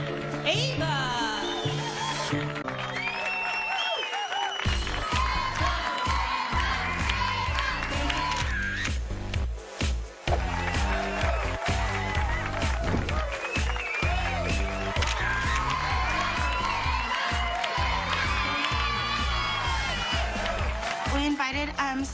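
At a Las Vegas toddler beauty pageant, a crowd cheers and shouts for a stage contestant, with the cheering blended under loud, continuous music throughout.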